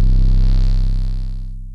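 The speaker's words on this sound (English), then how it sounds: "Second 808 I used right here is a custom 808 from my new drum kit." Custom 808 bass from a drum kit sounds as one deep, loud, booming sustained note with a buzzing edge that slowly decays and fades out.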